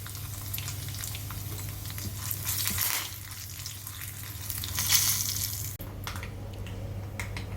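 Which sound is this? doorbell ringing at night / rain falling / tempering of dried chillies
tempering of dried chillies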